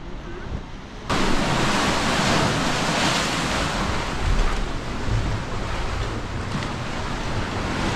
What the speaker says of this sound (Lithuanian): Čia mažesnis vėjas, šiek tiek geriau, bet labai populiarus paplūdimys šitas.